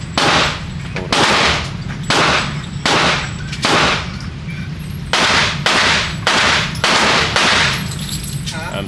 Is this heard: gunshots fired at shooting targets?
yes